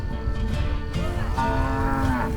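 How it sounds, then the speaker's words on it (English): Cattle moo loudly and close by, several long drawn-out bellows overlapping from escaped cows, with no one speaking. "quite a lot of escapee cows, so you've got to really be on the ball"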